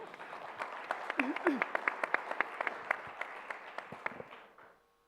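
Scattered, fairly faint applause rises from an audience at a forest-inventory conference plenary and fades out, with a voice heard briefly through it.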